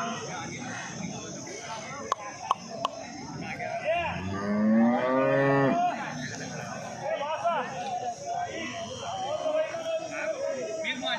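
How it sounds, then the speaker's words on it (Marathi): A cow lets out one long, deep moo in the middle, while people chat and a cattle market bustles around it; a couple of sharp clicks come earlier. "इकडे पण गाय आहे बघा, मस्त पैकी।"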